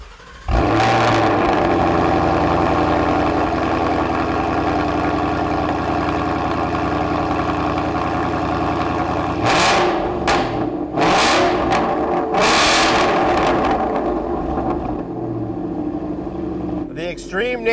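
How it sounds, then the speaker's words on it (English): A 2018 Mustang GT's V8 with a Corsa Xtreme cat-back exhaust and quad tips rumbles at idle, then roars through several sharp revs before settling back to a deep, loud burble. "I mean, this is a loud exhaust."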